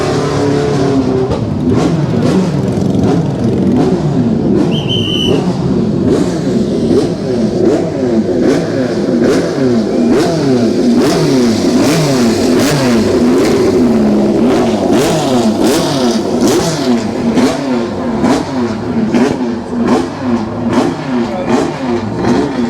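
Loud cars rev hard at the Goodwood Festival of Speed, engines howling and rising and falling in repeated waves of acceleration, close and continuous for the whole stretch with crowd ambience beneath.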